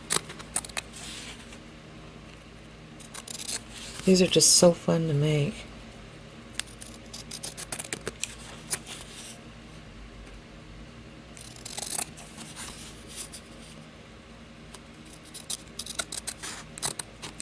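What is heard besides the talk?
scissors cutting fabric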